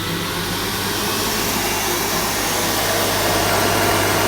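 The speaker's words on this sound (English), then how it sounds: "I'm going to whisk again a bit the mixture here." An electric mixer whisks egg white mixture for tiramisu, a steady loud motor whir that stays constant and close for the whole stretch with no talking.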